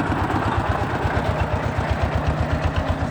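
Small motorbike engine chugging steadily on a red-dirt hill track in a rural upland village, a close, even low pulsing throughout.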